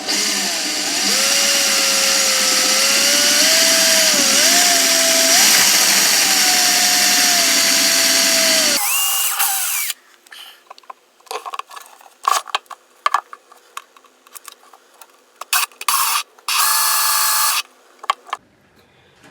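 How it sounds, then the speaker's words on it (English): A power drill whines steadily for several seconds, pitch wavering as it bites through a kitchen cabinet drilling small pilot holes, then stops; afterward come scattered clatters and short bursts of handling noise. "we're going to drill very, very small holes first through here so we don't splinter the cabinet itself"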